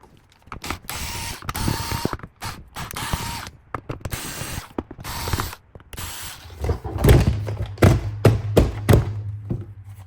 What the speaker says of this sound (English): We're going to use our T8 Torx screwdriver and we're going to remove the following.